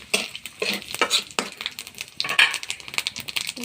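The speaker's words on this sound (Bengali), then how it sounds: "তেলের ভিতর ফোড়ন দিয়ে দেবো শুকনো লঙ্কা আর গোটা জিরে" Dried red chillies and whole cumin seeds sizzle in hot oil, crackling in uneven bursts alongside the scrape and clink of a spatula stirring in the pan, with no talk.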